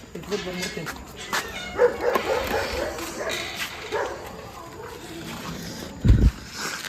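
Dogs bark outdoors during a night walk. The barks are mostly faint and scattered, with one louder bark near the end, and people talk throughout.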